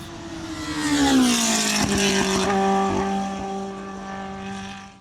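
Historic Le Mans race cars with high-revving engines of up to 9,000 rpm pulling away at a race start. One loud, close engine note rises and then drops as the car passes and fades, with no talk.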